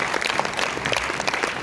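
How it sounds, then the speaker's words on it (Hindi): A large audience claps loudly and continuously in a dense, even burst of applause. "आप लोग अपने लिए एक जोरदार ताली बजाइए साहब"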